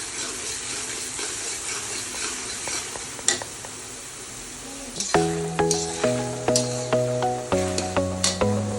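Tomatoes frying in hot oil in a pan while upma is made, a constant sizzle that is later joined by a rhythmic series of spoon or spatula scrapes and taps against the pan.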